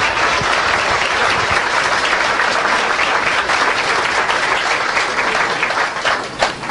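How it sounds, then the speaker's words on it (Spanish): Loud, dense applause from a large crowd at a Catholic religious gathering, sustained clapping that carries on evenly before tapering slightly at the end. "Démosle un aplauso al Señor por Antonio."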